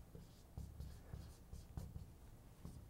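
Handwriting on paper or a board during a math lesson on symmetric power functions, a steady near scratching of strokes with light taps as the pen lifts and lands, heard alone without talk.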